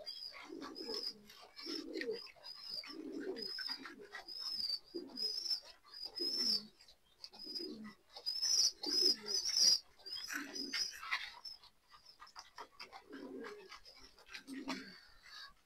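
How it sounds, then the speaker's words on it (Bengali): Pigeons kept in a loft coo nearby in repeated low, throaty phrases, pulsing in a steady rhythm against a quiet background with faint higher chirps. "তো চলেন কবুতর গুলাকে দিই।"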